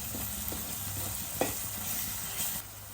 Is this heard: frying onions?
yes